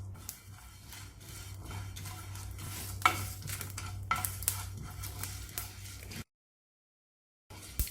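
Whole coriander, fennel, cumin, black pepper, cardamom and cloves dry-roasting in a pan, with steady stirring scrapes and light crackles running close and continuous, then a brief dead silence before the stirring resumes.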